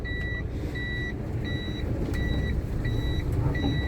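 Repeating electronic reversing alarm of a truck, steady evenly spaced beeps sounding clearly over a continuous low engine rumble and road noise.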